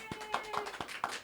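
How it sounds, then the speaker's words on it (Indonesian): Several hand claps, five or so evenly spaced sharp taps, fairly close and soft, in a podcast studio with a faint tonal hum beneath. "Tepuk tangan."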